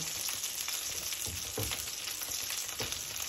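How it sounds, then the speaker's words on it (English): Steady sizzling of a chicken and mushroom dish in a pan as a wooden spoon stirs it, with soft scraping strokes and no voices. "stir it with my wooden spoon"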